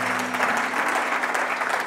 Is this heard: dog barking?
no